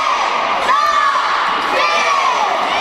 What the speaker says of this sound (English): Crowd's really into this right now.